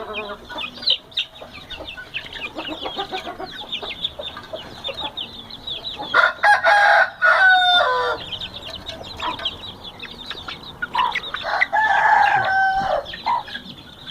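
A rooster crows loudly twice amid constant high peeping of chicks and some clucking nearby.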